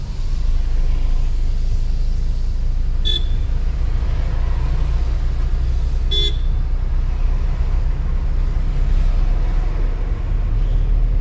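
Car engine running steadily during a Hindi driving lesson while the learner works up through first to fourth gear, a loud continuous low rumble with two brief high beeps or toots along the way.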